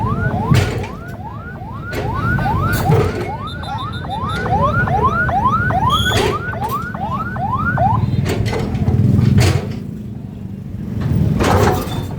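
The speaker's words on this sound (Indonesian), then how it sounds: "Ada ambulan mau masuk juga ya? Ambulan mau masuk." An ambulance siren as the vehicle arrives, loud and close, with rapid rising wails repeating about twice a second for several seconds before dropping away into background noise.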